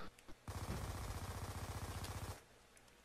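Light machine gun fire from the video game Black Ops 2: one loud, sustained automatic burst of rapid, evenly spaced shots lasting about two seconds, with quieter game noise before and after.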